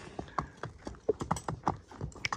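A young horse, a foal, walks with light clip-clop hoofbeats, about ten quick, uneven strikes in close succession, fairly near but soft, with no speech.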